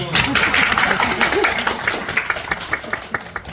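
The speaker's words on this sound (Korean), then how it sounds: "박수!" Theater audience applause at a Korean staging of Neil Simon's The Good Doctor: a dense clapping crowd at first under a speaking voice, thinning into slower, distinct claps toward the end.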